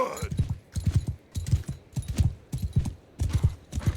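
Rhythmic clip-clop of horse archers' hooves galloping in battle in the video game Mount & Blade II Bannerlord, heavy repeated thuds in steady groups with a faint whinny near the start.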